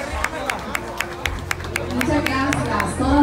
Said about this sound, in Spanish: también le damos un fuerte aplauso a las otras señoritas que han participado esta noche